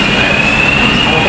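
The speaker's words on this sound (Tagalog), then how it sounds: "Ayan na yung train." The Ocean Express train at Ocean Park's Summit Station makes a loud, steady rolling rumble with a thin, sustained high whine over it.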